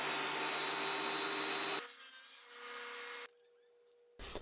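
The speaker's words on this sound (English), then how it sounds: "So I'm just going to start by cutting this cypress board into pieces and joining one side on the jointer" A cypress board is cut into pieces and jointed on a jointer, heard as a loud, close, steady whir of the machine cutting the wood that drops to a quieter hum and then stops abruptly.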